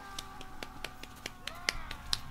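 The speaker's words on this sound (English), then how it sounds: "You gotta, like, golf clap." Quiet, sparse golf-style claps sound as sharp isolated pats, a few spaced hits over a faint background hum, close and soft.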